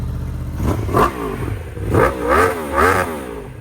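A motorcycle engine revs through its stock exhaust, baffle still in place, with three or four loud, close throttle blips that rise and fall over a steady idle, and no talk.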